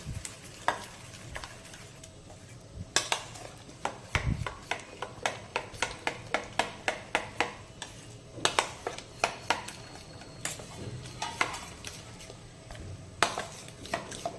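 Sev khamani batter being mixed with soda and water, heard as a steady run of sharp, close spoon or whisk clicks against a bowl, in bursts with brief pauses, with a soft scraping underneath and no talking.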